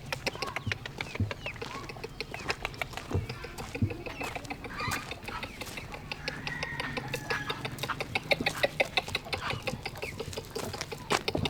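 Several chickens clucking and calling in the morning at a sub-prefecture in Taoudi, a steady busy mix of short clucks and squawks from nearby birds over an outdoor background, with no talk.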